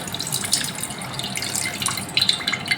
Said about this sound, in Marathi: हे परत ह्याच्यामध्ये परत मी पाणी टाकणार